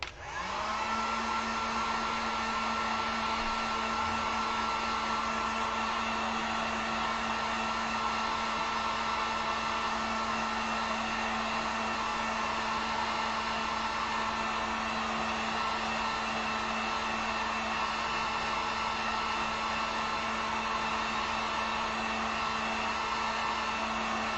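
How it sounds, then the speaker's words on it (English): A heat gun blows steadily to dry acrylic paint on a wooden sign, a loud, constant whirring hiss with a fixed tone that runs unbroken for the full duration with no talking. "let me hit this with the heat gun"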